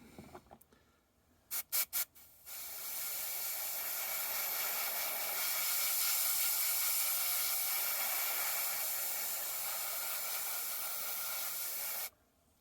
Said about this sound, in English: I'm going to go over them very lightly with this X24 clear yellow.